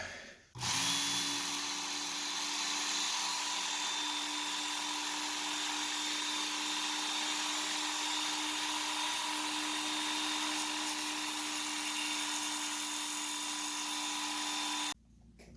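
A belt grinder runs in one continuous, steady high-pitched whine for about fourteen seconds, switching on and off abruptly, with no talking over it.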